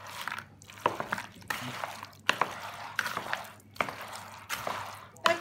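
Crispy guanciale in ricotta and fusilloni pasta crunches in a repeated rhythm of sharp, crackly bursts about every three-quarters of a second, close and dry, with brief quiet gaps between them.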